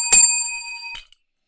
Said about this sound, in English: Will I ring the bell?